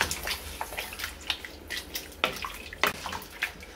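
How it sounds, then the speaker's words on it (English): Soup mix being stirred into a pot of homemade beef and vegetable soup, producing a series of wet sloshing and liquid scraping sounds, steady and close, with no talking. "Give that a really good stir."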